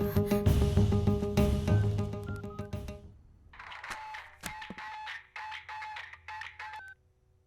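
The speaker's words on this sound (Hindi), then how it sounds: "फोन लगाओ उसे।" A phone call is dialed in a Hindi-dubbed South Indian romantic film, first a loud musical flourish, then a series of short dial and ringing tones pulsing in bursts, with no speech.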